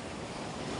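Ocean waves at the seashore at Bukana beach, a continuous broad wash of surf with wind noise, steady and fairly close, with no voices.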